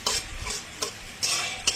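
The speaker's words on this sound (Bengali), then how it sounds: "পেঁয়াজটা লাল করে ভাজতে থাকি" Onions frying in oil in a pan while being stirred, a close sizzle broken by several sharp scrapes of a utensil against the pan, with no voices.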